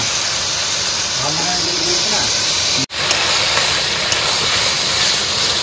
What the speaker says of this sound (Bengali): তেল গরম হয়ে গেছে, এখন দিয়ে দেবো আলু আর চিংড়ি মাছ।